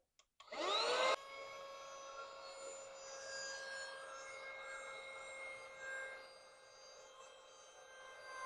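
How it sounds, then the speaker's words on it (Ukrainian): A small handheld car vacuum cleaner whines steadily with a high-pitched motor hum after a brief louder start, running alone without talk. "ось такий ми маємо пилосос"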